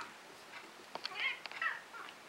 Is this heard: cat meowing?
yes